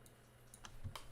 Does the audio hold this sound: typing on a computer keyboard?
yes